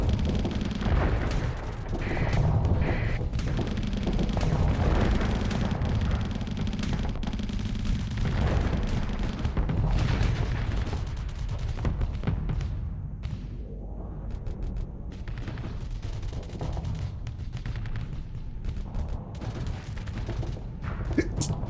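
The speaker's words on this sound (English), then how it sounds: "Nice lance cannon" Lance cannon fire in the Starsector space combat game, modded Imperium of Man faction, a dense continuous barrage of booming shots and rumbling impacts that runs loud and unbroken.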